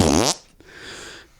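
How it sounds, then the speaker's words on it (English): A loud, wet, spluttering fart bursts out for about a third of a second, then fades into a faint airy hiss with a small pop near the middle. "I think a Sasquatch farts all the time"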